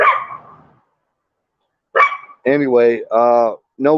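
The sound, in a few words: dog barking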